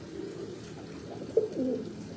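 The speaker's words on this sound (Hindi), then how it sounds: "ਇਹ ਜੀ ਕਬੂਤਰ ਆ ਕੇ ਬੈਠੇ ਨੇ ਜੀ" Pigeons perched on a rooftop give soft, low coos, faint and muffled, with a couple of slightly louder warbling calls near the middle.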